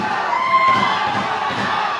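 A wrestling crowd at the Gulfview Event Center roars and cheers continuously, loud and dense, a sustained wall of shouting voices with no break.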